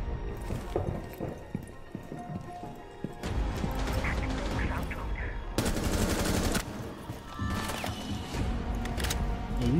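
Gunfire in the shooter Rainbow Six Siege. Bursts of automatic fire come in loud, dense clusters with short gaps between them, and speech can be heard at times.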